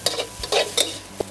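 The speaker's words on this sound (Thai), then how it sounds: "แล้วก็ผัดให้เข้ากัน" Vegetables being stir-fried in a pan for a Thai dish seasoned with oyster sauce, with a few short scraping stirs and soft sizzling, close and fairly quiet.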